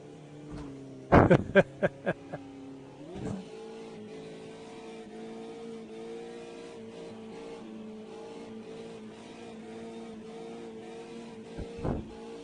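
AI race cars in a sim racing video game drone steadily with a tonal engine hum under a few sharp close knocks and clicks near the start and end, the engine note shifting slightly; no talking.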